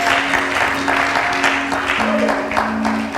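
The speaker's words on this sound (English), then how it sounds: "Let's give the Lord a great big hand clap of praise" A church congregation applauds in praise during a Sunday morning worship service, with steady, sustained clapping filling the room over a held musical tone from the band.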